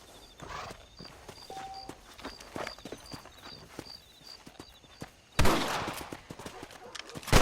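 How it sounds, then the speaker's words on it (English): Gunshots at rabbits in Red Dead Redemption, with a horse's hoof clops scattered throughout. Several sharp shots crack at irregular intervals over the clopping, and one much louder, nearer blast comes late, followed by another sharp crack at the very end. "Better at shooting rabbits than outlaws, I see."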